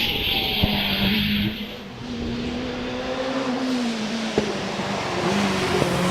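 A Force SR4 race car launches off the line at a Prescott hillclimb. The engine holds a steady, high-pitched drone that rises as it pulls away, with the sharp note of a gear change, all heard from trackside with no commentary over it.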